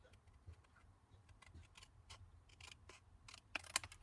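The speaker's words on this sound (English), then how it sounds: "Then I need to take the scissors." Scissors snip quietly while a picture frame is being made, a series of faint, crisp cutting clicks at an uneven pace, close by in a quiet room.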